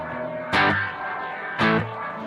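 Electric guitar played through a BOSS GT-1000CORE with rotary and reverb effects, two strummed chords ringing out with swirling modulation and a lingering reverb tail, no talk.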